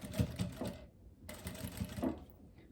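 A sewing machine stitches along the edge of viscose fabric in quick whirring bursts, pausing briefly between runs, close and clear with no talking.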